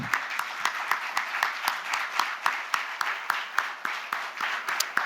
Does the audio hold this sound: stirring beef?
no